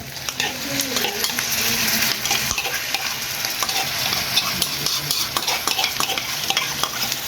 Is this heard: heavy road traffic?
no